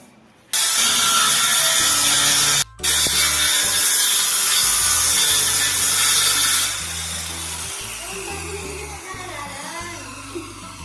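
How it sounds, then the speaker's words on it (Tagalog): A hand saw cutting through wood with steady back-and-forth strokes, loud and close, settling into a quieter rhythm toward the end. "Kaya lagari na lang kami for today's vlog."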